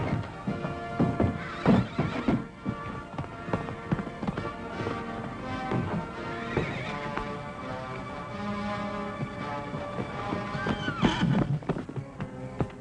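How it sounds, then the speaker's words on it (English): A white mare neighs and whinnies repeatedly while her hooves clip-clop, heard over a busy background with other noises around them in a 1950s television western. "The white mare's loose!"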